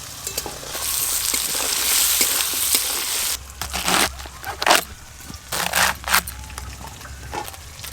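Crab pieces fry in hot oil with a bright, steady sizzle that cuts off partway, followed by scraping and stirring bursts in the pan, close and fairly loud, with no talking.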